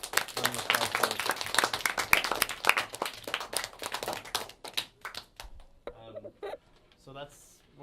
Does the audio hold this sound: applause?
yes